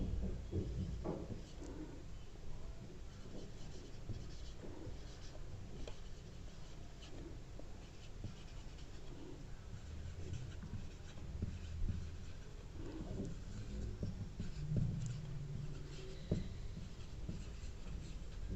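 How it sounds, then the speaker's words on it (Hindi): Pen scratching across paper as an answer is written out by hand for a class 10 science sample paper, a steady soft scribble running continuously throughout at close range with no talking. "तो इसको मैं लिख देता हूँ।"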